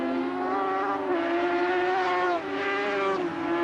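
Superbike motorcycles racing in 1977, a Suzuki and a Kawasaki, their high engine whine rising and falling in pitch as they pass, moderately loud with a brief dip midway.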